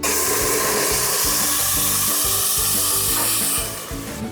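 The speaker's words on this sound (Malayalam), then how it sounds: "ഒരു തുള്ളി വെളിച്ചെണ്ണ ഒഴിച്ചു ഓക്കെ മത്തി ജ്യൂസാക്കിയത് ഇതിലോട്ട് ഒഴിക്കുകയാണേ" Loud, steady sizzling of ground sardine paste frying in hot coconut oil, close up, with rhythmic scraping thuds from stirring, fading slightly at the end.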